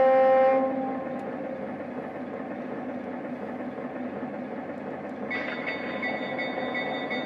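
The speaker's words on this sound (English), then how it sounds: "Dispatcher, train is moving." Lionel Burlington Zephyr model train running on track, a steady mechanical rumble and whir with a brief tonal hum at the start, continuous and fairly close, no talking.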